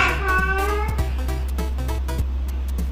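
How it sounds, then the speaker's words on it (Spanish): A cat gives a drawn-out meow that breaks into shorter follow-up cries, close and clear over a steady low hum. "Gatos siendo gatos."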